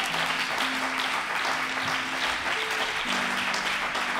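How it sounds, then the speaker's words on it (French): A congregation at a religious gathering applauds and cheers, steady dense clapping throughout with a few raised voices mixed in, no speech. "est-ce qu'on peut donner de bonnes acclamations à Dieu?"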